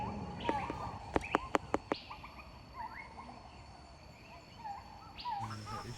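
Assorted birds calling at KL Bird Park in Kuala Lumpur: a quick run of sharp chirps, scattered whistles and gobbling fowl-like calls over a faint outdoor background.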